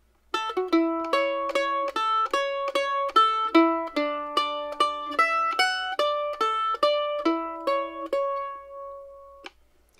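Mandolin picking a sparse, skeletal version of the fiddle tune Bill Cheatham: a steady run of clean plucked notes, close and solo, ending on one held note that rings out and fades.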